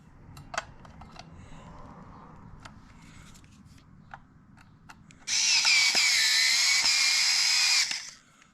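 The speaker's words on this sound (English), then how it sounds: "I'm using an electric screwdriver because I can." An electric screwdriver drives screws into an Akai S01 sampler during a Gotek floppy USB emulator install, giving one loud, steady whine of about two and a half seconds that stops abruptly, after a stretch of faint clicks and handling noise.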